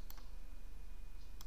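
A few keystrokes on a computer keyboard while entering a command, a quick pair of clicks at the start and another pair near the end, faint and close over a quiet hum.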